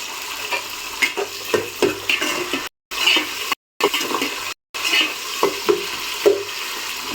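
Tomatoes dropped into hot oil and frying in a pan for a Nellore-style curry, a loud, steady sizzle broken by stirring scrapes and clicks, with a few abrupt silent gaps partway through.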